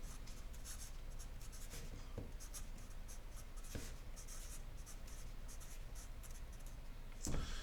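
Chalk or marker scratching across a board during a differential equations lecture, a steady continuous scraping with short strokes and taps throughout, no voices.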